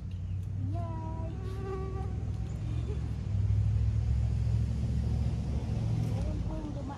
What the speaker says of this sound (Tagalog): Meron pong dumaang sasakyan.